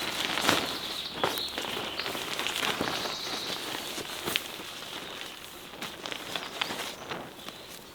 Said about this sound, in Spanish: No sé si se oye, pero ya está empezando a llover.